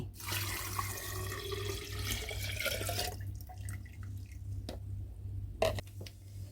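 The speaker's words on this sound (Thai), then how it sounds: "น้ำเชื่อมที่เราต้มไว้นะคะ ตอนนี้เย็นสนิทแล้วป้าหมูจะเทลงโหลหมักได้เลย" Cooled homemade syrup is poured into a fermenting jar of pineapple peels to make tepache; a steady close liquid pour and splashing runs for about three seconds, then gives way to scattered drips and small clinks.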